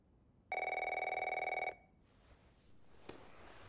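A telephone rings once in The Last of Us, a single loud electronic bell trill lasting about a second, followed by quiet room tone and a faint click.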